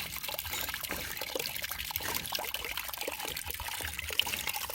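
Wet concrete being poured for a first step at a house build in the Philippines, a continuous sloshing, trickling pour heard close and moderately loud with no talking.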